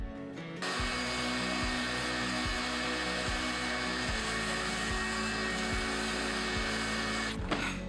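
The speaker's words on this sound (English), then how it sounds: "Now is a good time to vacuum all that up." A vacuum cleaner switches on after about half a second and runs steadily to the end, a close, loud whine with faint periodic thumps, while deer hair is cleaned up after cutting out a hide.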